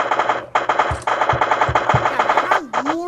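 Rapid automatic gunfire in the Minecraft Crafting Dead zombie survival game, loud sustained bursts with short gaps and a few deeper thumps, ending in a rising whine.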